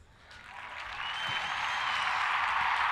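Applause swells steadily over a few seconds, a broad, dense wash of clapping that builds from faint to full and holds, with no talk on top.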